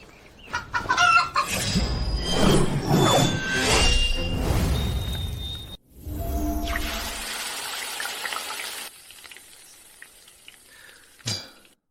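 A chicken clucks and squawks in loud, agitated bursts for several seconds up close, then a sizzling, frying hiss follows.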